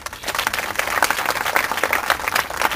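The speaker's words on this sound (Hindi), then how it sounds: "वेरी गुड, तालियां बजाएं इस बहन के लिए" A church congregation claps for a woman during a sermon, lively close applause with distinct individual claps, rising quickly and holding steady.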